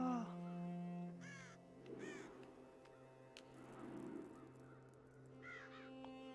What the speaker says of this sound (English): Talk to the crows.